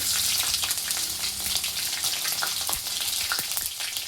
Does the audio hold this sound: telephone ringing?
no